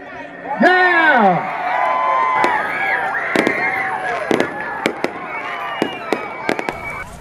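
Fireworks at a downtown Blue Springs Christmas tree lighting celebration burst in a string of sharp, loud bangs and crackles. They follow an excited crowd shout and continue over steady crowd noise and voices.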